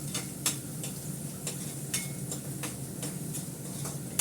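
Meat cooking in a pot as a little water is added, a soft steady sizzle with faint intermittent ticking and clinks of utensils, quiet and close.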